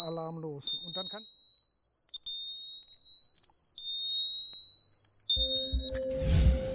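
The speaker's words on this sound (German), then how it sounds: "dann geht jetzt der laute Alarm los" A bicycle lock alarm emits a steady high-pitched electronic tone that pulses with short breaks, heard alone after a brief voice at the start, with a burst of noise and speech at the end.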